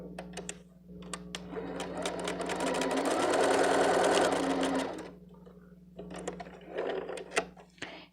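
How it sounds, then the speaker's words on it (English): A sewing machine stitches a strap for a small fabric bag, starting with a few short bursts, then running in a steady close whir before slowing to stop-and-start stitching. "And then I'm going to sew my other strap"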